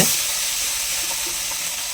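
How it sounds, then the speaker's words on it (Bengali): Rohu fish frying in hot oil in a home kitchen, a steady dense sizzle and crackle that stays loud and even from start to finish with no talking. "আজকে রুই মাছ ভাজা করছি গো"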